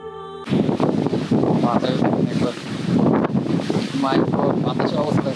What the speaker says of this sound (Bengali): কি, বাতাস রে ভাই।